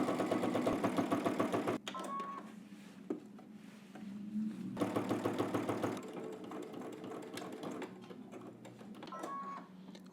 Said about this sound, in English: so let's head to the machine. We're going to edge stitch first all the way around